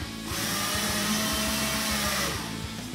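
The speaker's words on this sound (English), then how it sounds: "I'll just screw them in to make them get a bit further and as far as I can" Screw gun driving screws into a wall to mount a skateboard, a steady whirring motor with rhythmic pulsing as the screws bite, close and loud, no talking.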